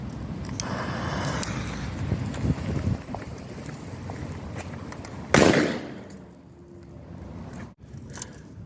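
A firecracker goes off inside a can with one loud, sharp bang about midway, cutting through steady outdoor wind and rumble before the sound settles into quieter background noise.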